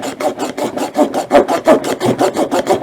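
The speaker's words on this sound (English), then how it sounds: "It is in fact sawing into this bone here" A hand saw from a cheap field butchering kit cuts into a bone in steady back-and-forth rasping strokes, close and loud, about five strokes per second, with no talking.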